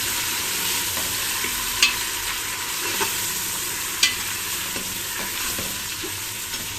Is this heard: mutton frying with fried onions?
yes